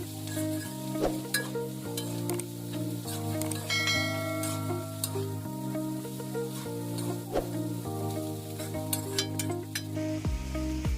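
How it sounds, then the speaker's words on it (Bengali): Boiled chow mein tossed and stirred with fried vegetables in a hot pan, giving a steady close sizzle with scraping stir strokes throughout, alongside a faint tonal hum. "তারপর চাউমিনগুলোকে ভেজিটেবলের সঙ্গে খুব ভালোভাবে মিশিয়ে নেব"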